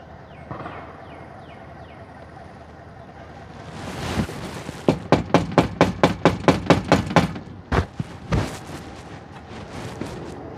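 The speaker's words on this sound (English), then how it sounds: "So I'm gonna knock a little bit more." A house door is rapped in a quick, loud burst of about ten sharp knocks, followed by a pause and a few more blows, over quiet outdoor background.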